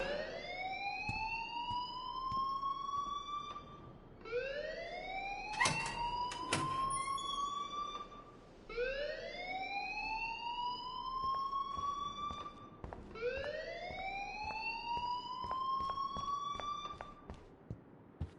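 Rising, wailing alarm in the game Life is Strange repeats four times in steady cycles, each sweep climbing then cutting off, loud and continuous with a few sharp knocks between.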